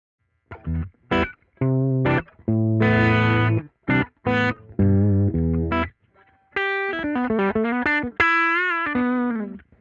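Electric guitar played through a GarageBand amp emulation set at the edge of distortion, with phrases of picked single notes and short chords separated by brief gaps, close and fairly loud with no talk.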